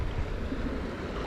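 Ocean surf crashes and washes over a boulder-strewn beach in a steady, loud roar of churning water. Wind buffets the microphone, and no voices are heard.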